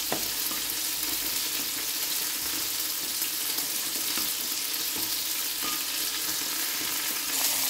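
A sweet soy sauce and water glaze bubbles and sizzles in a pan while being mixed, a steady hissing fry with faint scraping, no voices.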